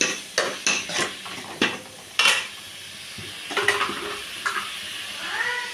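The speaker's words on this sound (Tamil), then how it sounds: "தக்காளியை நல்லா வணக்கிக்கலாம்" Tomatoes and onions sautéing in a pan for chicken curry, with a low sizzle under a run of clattering utensil strokes and scrapes against the pot.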